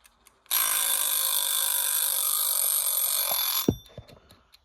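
Ladybug kitchen timer ringing: a loud, bright, continuous metallic bell rattle lasting about three seconds, stopping abruptly, followed by a few soft handling knocks.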